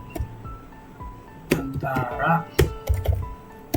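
Typing on a computer keyboard while configuring a MikroTik router, heard as scattered key taps and a few sharper clicks, close and clear, with a voice speaking in between.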